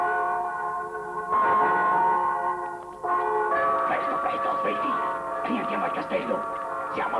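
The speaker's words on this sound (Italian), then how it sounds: "Ambrogio, suonate le campane!" Church bells ringing in an alarm call in a 1964 Italian period film, steady metallic tolling with layered overtones filling the scene, interrupted by shouting voices over the bells.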